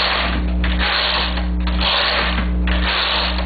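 Domestic knitting machine knitting rows for a plain hem, the carriage sliding back and forth with repeated rasping, ratcheting sweeps over a steady low hum, close and fairly loud, with no voices.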